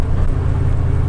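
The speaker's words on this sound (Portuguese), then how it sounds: "Não ouviu o V8." A Ford F V8 with dual exhaust idles steadily, a deep, continuous rumble heard close and fairly loud, alone without talk.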